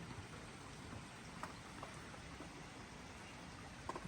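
Steady rain in Korea patters softly, a continuous hiss of drops with a few sharper taps, faint and even throughout.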